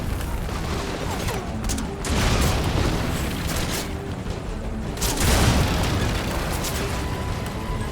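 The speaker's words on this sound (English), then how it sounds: "I blow myself up." Explosions and blasts in Metal Gear Solid V: Ground Zeroes, a dense, loud booming roar that swells twice across several seconds over continuous rumbling game noise, with no talk.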